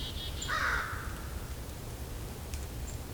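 A single American crow gives one faint, distant caw early on during a winter bird count outdoors, with steady background hiss around it.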